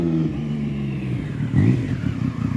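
A 2003 Triumph Sprint RS with a 955i triple engine and a muffler runs close by, its steady throaty idle swelling into a brief, louder rev partway through before settling again.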